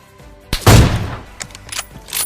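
Gunfire from the mobile video game PUBG Mobile: one loud, booming shot near the start, followed by a few lighter, scattered reports trailing off, punchy and close.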